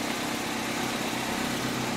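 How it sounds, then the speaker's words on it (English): Idling exhaust of a 2005 Toyota Corolla LE, a steady low rumbling hum with even pulsing, close and constant for two seconds with no talk. "And there's your exhaust."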